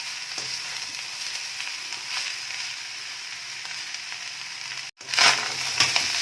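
A prawn and egg fried rice is stirred in a pan with a continuous hissing sizzle and scraping mixing strokes, ending in a brief pause before a louder clattering toss.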